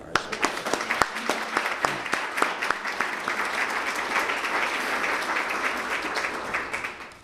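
At a mayoral State of the City address in Elmhurst, scattered individual claps quickly swell into a sustained round of audience applause that holds steady, then fades at the end.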